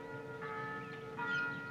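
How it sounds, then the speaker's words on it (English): A church bell tolls softly in the distance across a quiet, shady outdoor spot among trees, with two sustained ringing strikes that linger and fade, and no voices. "listening to the bell toll"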